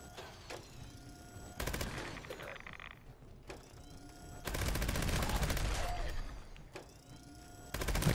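A Gauss minigun firing at enemies in Fallout 76: bursts of rapid, dense automatic fire that come in several long volleys with short pauses between, loud and close over steady game ambience.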